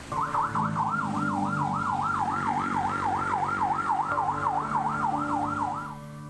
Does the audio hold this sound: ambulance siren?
yes